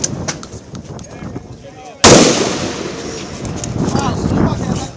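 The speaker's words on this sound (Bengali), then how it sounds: "ম্যাগজিনের পর ম্যাগজিনের গুলি চলে শিক্ষার্থীদের উপর।" Police fire on students in Dhaka: after a stretch of faint crowd noise, a single sharp, loud gunshot cracks out, followed by a long, rumbling echo and continuing commotion.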